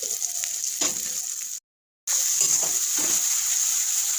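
Cumin and coriander powder going into a spice paste already frying in oil for an eggplant chicken curry, a bright continuous sizzle interrupted by a short silent gap, with faint stirring scrapes, close and fairly loud.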